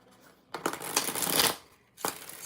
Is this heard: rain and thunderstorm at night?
no